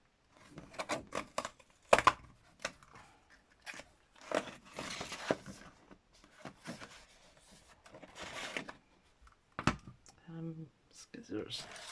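Scissors snip through paper while making journal pockets, a series of close, crisp clicks and cuts in scattered bursts, with someone talking quietly between them.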